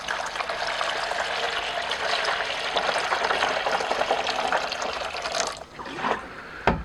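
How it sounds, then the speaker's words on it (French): Three litres of water splash and trickle steadily into a basin of mushroom-growing substrate mixed with fungicide, a continuous close pour that tapers off near the end. "Et le tout couronné par 3 litres d'eau."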